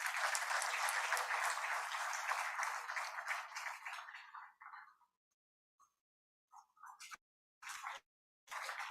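Audience applause at a university event in the presence of India's Vice President, a loud sustained wave of crowd clapping that fades away, followed by a few scattered, isolated claps and short bursts.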